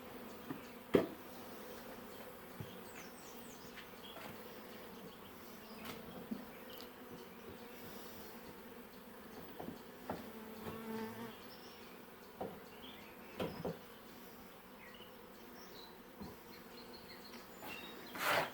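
Honeybees buzz steadily over a hive frame full of brood during an open-hive inspection, a soft continuous drone with occasional louder bees passing close.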